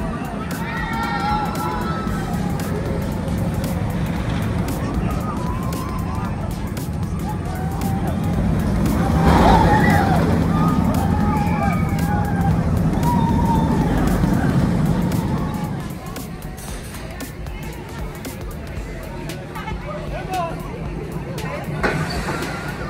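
Patriot roller coaster ride at Worlds of Fun amusement park, a steady rattling rumble of the train on its track that swells in the middle and then eases off, under riders' screams and crowd chatter.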